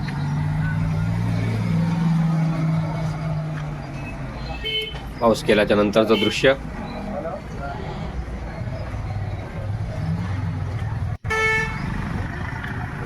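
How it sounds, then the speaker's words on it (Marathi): Road traffic resumes after a stormy first monsoon rain in Konkan, with a steady rumble of cars and a cluster of loud horn toots in the middle. Someone talks over it. "वर्दळ वाहतूक व्यवस्थित सुरू झाली."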